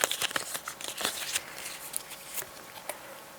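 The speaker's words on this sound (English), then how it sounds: "Give it a quick shuffle." A deck of cards being shuffled up close, with a quick flurry of crisp riffling snaps and slaps over about three seconds, loudest at the start and tapering off.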